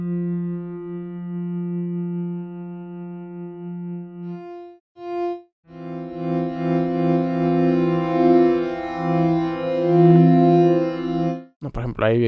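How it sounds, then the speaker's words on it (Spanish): Sustained granular synthesis pad with a slight phaser character, a steady harmonic tone that drops out briefly, then returns thicker and gently swirling before a short glitchy burst at the end. "Ahí se obtiene un carácter como que ligeramente de phaser."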